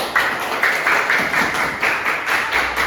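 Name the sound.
class applause for group 3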